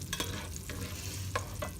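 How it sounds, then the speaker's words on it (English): Food sizzles in olive oil in a pot as it is stirred, with soft crackling under a low hum and a few brief scraping bursts from the spoon. "I am going to give this a stir"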